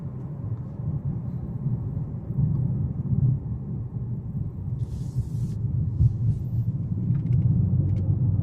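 Low, steady road rumble inside a 2019 Mercedes CLS450 4Matic on air suspension as it rounds a corner in comfort mode, with a subdued engine drone and faint ticks near the end.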